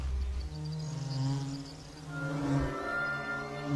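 A honeybee buzzes near flowers, a faint, continuous droning hum that wavers slightly in pitch as it hovers close by.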